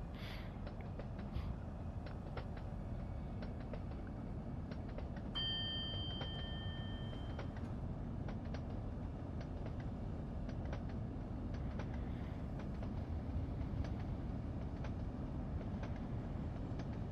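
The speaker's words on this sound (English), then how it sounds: "Yeah, I do like this train. It is a good train." A Javelin train runs in Train Sim World 2, giving a steady, low rumbling drone with faint rhythmic clicks of wheels over rail joints, heard close and continuous throughout.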